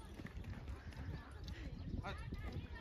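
Horses' hooves clip-clop slowly and steadily in a religious street procession, a dense run of hoof strikes close by amid crowd noise and background voices.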